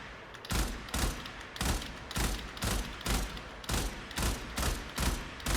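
Automatic weapon in the video game Warframe firing in steady rapid bursts, about ten loud regular volleys of gunfire with no talk over them.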